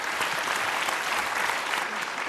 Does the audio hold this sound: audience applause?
yes